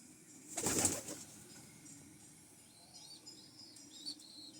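Pigeons in a breeding loft coo softly and intermittently, faint and fairly close, with a brief louder rustle near the start and quiet room ambience between calls.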